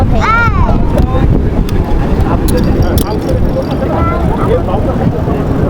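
Strong storm wind at a beach in Cox's Bazar roars and buffets the microphone continuously, with people speaking and calling out underneath the gusts.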